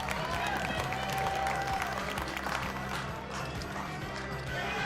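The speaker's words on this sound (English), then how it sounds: "Crowd goes wild, and how could they not?" A poker tournament crowd at a World Poker Tour final table erupts in sustained applause and cheering after a bluff is called, dense and continuous with commentary voices talking over it.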